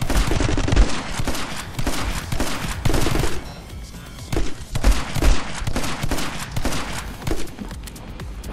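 Dense gunshots in the action game My Friend Pedro, loud bursts of rapid fire crowding together with brief lulls between volleys, close and punchy against game music and effects.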